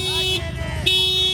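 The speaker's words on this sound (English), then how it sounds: "okay, car alarm" An aftermarket car alarm sounds at a car meet with a 500 WHP Subaru STI nearby, a steady electronic tone that cuts out briefly mid-clip and resumes loudly over background murmur.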